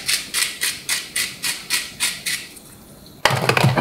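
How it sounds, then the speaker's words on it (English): A salt grinder cranks out salt in about eight rhythmic, gritty crunching strokes, close and crisp, followed by a short pause and a louder rattling burst. "I really like these salt and pepper grinders"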